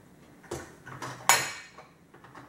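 Glass knocks against something hard in a quiet indoor space: a few sharp clinks, the brightest and loudest just past the middle, each ringing briefly before fading.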